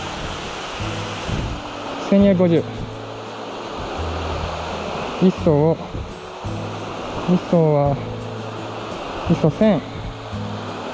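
Marugami Falls in Saitama pouring in a continuous, loud roar of falling water and spray, with someone speaking intermittently over it and sharp camera shutter clicks.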